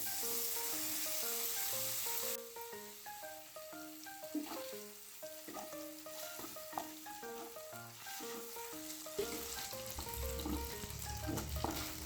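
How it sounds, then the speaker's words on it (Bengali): Paneer fries in mustard oil in a kadai with a steady crackling sizzle, heard under continuous background music. "ওই কড়াই সরষের তেল দিয়েছি, এখানে পনির নিয়েছি। পনিরটা দিয়ে ভালো করে পনিরটা ভেজে নেব।"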